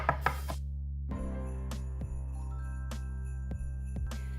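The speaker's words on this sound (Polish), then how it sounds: "Ostudzone grzybki teraz bardzo drobno pokroję" Cooled cooked mushrooms being finely chopped with a knife: a handful of crisp, evenly spaced board taps under a loud steady hum and faint tinkling music, no speech.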